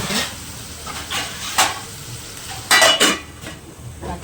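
Onion sizzling in a pan under steady frying hiss, with a few louder scraping stirs and clinks of a utensil against the pan; no talking.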